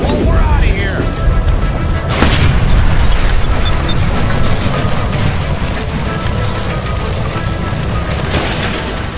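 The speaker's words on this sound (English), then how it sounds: "Shoot the gas line, Cole, we're out of here!" A gas line by a stove blows up in the L.A. Noire video game: a heavy boom flares early and then a dense, roaring rumble of fire and debris carries on steadily throughout, with voices faintly underneath.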